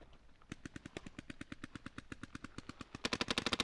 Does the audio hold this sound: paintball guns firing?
yes